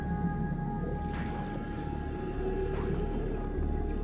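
Ambient background music in the underwater game Subnautica, a soft sustained tone with an airy high shimmer and occasional gentle swells over low rumble, steady and fairly quiet with no talking.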